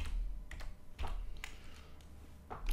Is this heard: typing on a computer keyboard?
yes